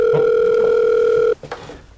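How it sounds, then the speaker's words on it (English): A steady electronic telephone call tone holds for over a second, then cuts off abruptly, followed by faint rustling and handling sounds. "It's a phone call."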